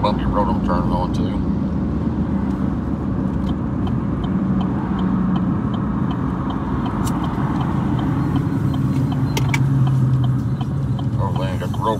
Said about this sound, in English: This is going to be kind of a little bumpy road I'm turning onto.